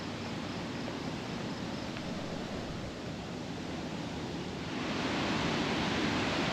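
Water roaring over a dam on a Michigan river, a loud steady broadband rush with no pauses, swelling slightly louder toward the end, heard alone from close by.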